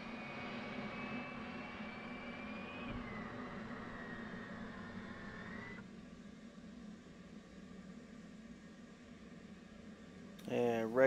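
F/A-18 Hornet auxiliary power unit running in a flight simulator game: a steady low mechanical drone with a high whine that shifts pitch, then drops to a darker hum, ending in a brief rising electronic tone burst.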